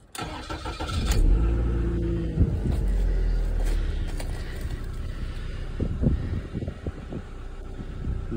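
A 2005 Rover 75 car engine cranks and catches, rising after about a second into a loud, steady idle close by, with some small clunks and rattles over the running engine.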